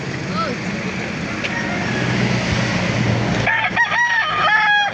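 Gamefowl roosters crow at a chicken market in Laguna, several overlapping crows sounding through market noise, clearer toward the end, while someone talks over them.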